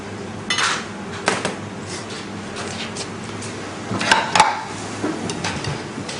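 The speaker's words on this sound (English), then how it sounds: "Just give it a slight tap down to hold it together, stop it falling apart" A few light taps of food being pressed down into a ring mould on a serving dish while making garlic prawns, giving soft clinks and knocks spread over a few seconds against a quiet room.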